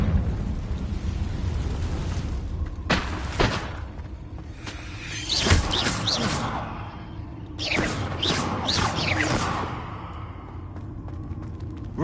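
Confringo fire spell blasts in Hogwarts Legacy: a string of whooshing bursts and crackling explosions, several separate loud blasts over a rumbling game background.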